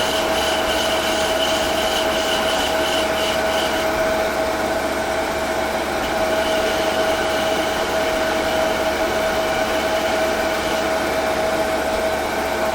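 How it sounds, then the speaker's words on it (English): Sandpaper held against a walnut pawn spinning on a wood lathe, a continuous loud hiss over the steady hum of the lathe motor, with a constant tone running underneath for the whole stretch. "Pretty much rounding this over with sandpaper"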